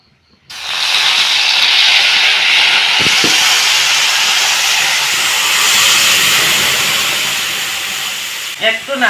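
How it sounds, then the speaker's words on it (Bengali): Mesta (roselle) leaf paste hits hot oil already seasoned with black cumin, setting off a loud, sudden hiss that holds steady for several seconds, then eases slightly, with a few clicks near the end. "এখন আমি এই মেস্টা পাতার বাটাগুলো দিয়ে দেব"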